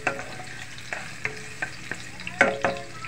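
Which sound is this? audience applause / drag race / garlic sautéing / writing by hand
garlic sautéing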